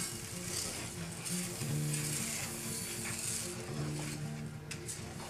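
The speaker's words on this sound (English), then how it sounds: "You put your skillet on medium and you stir and stir and stir some more." Dry long grain brown rice being stirred in an ungreased skillet over medium heat, a soft steady sizzle and faint scraping rustle, quiet and continuous without speech.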